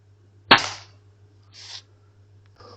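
A single sharp air gun shot cracks at an outdoor DIY backyard range, followed by a couple of fainter, softer thuds in the quiet afterward.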